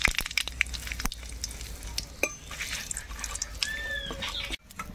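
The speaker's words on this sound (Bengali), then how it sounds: "আমসো রান্না করবো তো মাছ ভাজার তেলে ফোড়নটা দেবো," Mustard seeds, a bay leaf and dried chillies crackle as they hit hot oil left from frying fish for a village-style raw mango and snakehead fish curry, with close, irregular pops and spatters over a soft sizzle.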